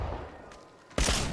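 Gunfire in Apex Legends, with a low rumble of distant fire and then a sudden loud near shot bursting out near the end.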